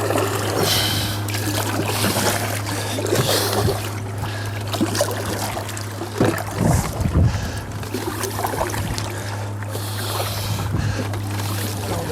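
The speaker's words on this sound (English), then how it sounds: "The wind get a bit choppy now." Wind blowing over choppy water around a canoe while paddling, a continuous rushing wash with splashes and dribbles of water, a steady low hum underneath throughout.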